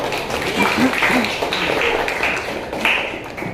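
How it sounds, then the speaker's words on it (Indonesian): Classroom applause with scattered claps and chatter from a group of children, a busy, noisy burst of clapping under voices. "Tepuk tangan untuk kelompok merah dan biru"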